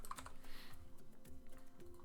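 Quiet, rapid clicking of keys on a computer keyboard, fairly close, in an uneven typing rhythm of short bursts.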